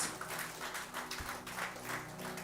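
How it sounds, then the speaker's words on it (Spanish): Applause from a church congregation fills the room, a dense continuous wash of many hands clapping, steady and moderately loud without a clear ending. "Give a loud clap to Jesus."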